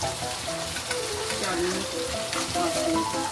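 Ground spice paste with split green chillies sautéing for Bengali ilish in mustard-poppy sauce, a dense continuous sizzle and crackle close up, with faint stirring scrapes and no talk.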